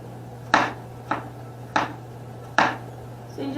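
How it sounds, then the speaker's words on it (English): Four sharp, evenly spaced knife strikes as apples are chopped finely on a cutting board for an apple cake, each a crisp close thud-click over a steady low background hum. "Chop them up nice and small, like that."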